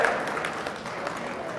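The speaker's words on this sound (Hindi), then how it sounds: "तालियां बजाओ इस बात पे।" A short burst of audience applause at a spiritual lecture, dense and even clapping at moderate volume, already underway and continuing to the end.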